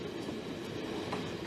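A train rolls along a railway in China, heard as a steady, continuous rumble with a faint rhythmic clatter of wheels, fairly quiet and even throughout with no voices.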